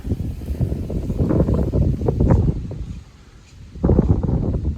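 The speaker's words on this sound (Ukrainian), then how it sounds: "Щось вітер зірвався." Gusty wind buffets the microphone with low rumbling roars that surge and ease, dropping briefly before blowing hard again.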